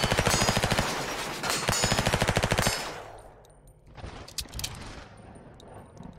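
Rapid automatic gunfire from guns in the VR shooter Reficul, loud and close in dense sustained bursts for nearly three seconds, then trailing into scattered shots, clicks and mechanical clatter.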